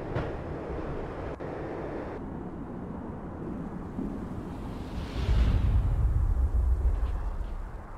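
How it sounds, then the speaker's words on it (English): A train in the Max Payne video game rolls along and slows, a low rumbling rush that swells into a heavier, louder roar midway before easing slightly, with no voices. "When the train he was riding slowed down,"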